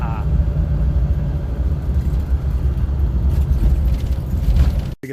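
A car drives along a road, giving a steady loud low rumble of engine and tire noise from inside the cabin. The drone continues without a break until it cuts out abruptly near the end, and a voice speaks faintly under it.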